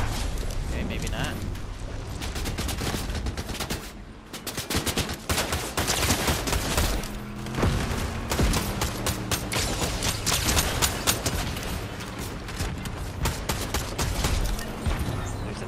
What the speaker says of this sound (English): laser gun right there